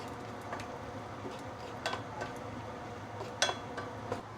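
A utensil scrapes and taps against a pan of frying lap cheong sausage with shallots in scattered light clicks over a low background hiss, with no talking.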